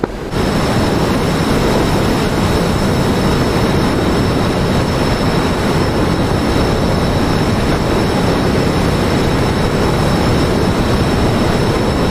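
Fighter jet in flight in DCS World, a constant loud broadband engine roar that starts abruptly and holds steady throughout, with no talk.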